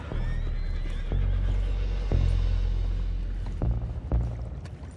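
Horses whinny and snort amid a low rumbling background in the video game Red Dead Redemption 2, with occasional hoof thuds and knocks, fairly close and loud.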